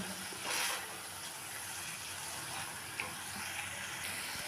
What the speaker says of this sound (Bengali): মশলা ভালো করে কষানো হয়ে গেছে, তেল ছাড়তে শুরু করেছে